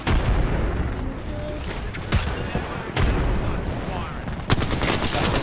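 Sniper gunfire in a shooter video game, several sharp shots and bangs spread across a few seconds over continuous game noise, with a player talking at times.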